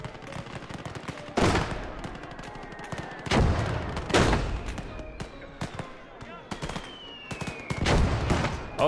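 In the World War II video game Gates of Hell, mortar rounds land with several heavy, booming blasts spaced a few seconds apart, amid a continuous scatter of sharp machine-gun cracks from MG34s, some near and some distant.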